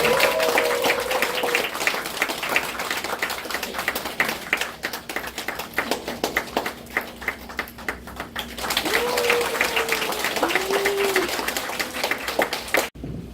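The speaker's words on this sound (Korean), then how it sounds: "박수 부탁드립니다." Clapping from attendees at a graduation ceremony held at Hwaeomsa temple on Jirisan, steady scattered claps running through most of the stretch, with some bird-like or voice tones rising briefly and a short lull midway.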